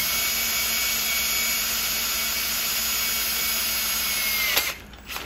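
Steady high whine of a power tool loosening ring gear bolts on a Toyota Hilux differential, running continuously up close before cutting out near the end with a short clatter.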